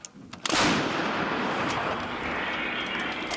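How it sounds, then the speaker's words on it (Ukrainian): A single heavy artillery gun blast booms suddenly, followed by a long rolling rumble and echo that fills the space for several seconds. "Гармата. Постріл!"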